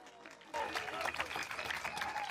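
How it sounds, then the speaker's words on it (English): A crowd at a municipal band concert breaks into applause partway through, a steady wash of clapping that fills the room after a quieter start. "So give her a bigger round of applause."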